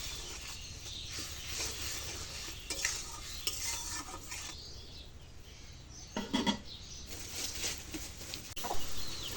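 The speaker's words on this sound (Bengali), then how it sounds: "মশলাটা একটু কষায়" Spice paste with turmeric being stirred and sautéed in a pan, soft scraping spoon strokes over a faint sizzle, with chickens clucking in the background of a village home.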